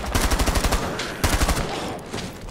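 Bursts of automatic gunfire in Rainbow Six Siege Outbreak, two rapid rattling volleys of about ten shots each, loud and close, separated by a brief pause, trailing into game ambience.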